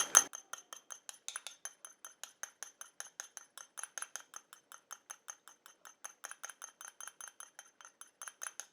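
Small, rapid clinks of a utensil against glass repeat in a steady rhythm while an anti-aging eye gel mixture is stirred, each tap light and bright in an otherwise quiet setting.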